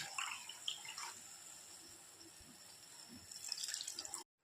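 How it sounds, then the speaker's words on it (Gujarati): A bowl of water splashes and gurgles into the pot of tempered moraiya and peanut khichdi, a close, steady pour lasting about four seconds before cutting off abruptly. "છેલ્લે આપણે એક વાટકો પાણી નાખીશું"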